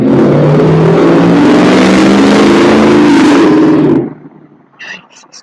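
Cars pass outside with a loud, close engine roar and rising whine that fills the first four seconds and then cuts off abruptly, leaving faint background sound.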